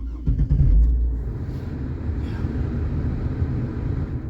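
2005 Chevrolet Trailblazer EXT starting on a cold day: a brief cranking burst as the engine catches, then a low, steady idle rumble.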